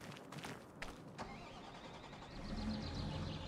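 A smaller tractor's engine cranks and starts in Farming Simulator 25, quiet and fairly close, settling into a low, steady idle hum after the start.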